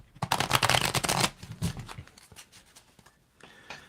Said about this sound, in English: So I'm going to shuffle, and Katniss, you tell me when to stop shuffle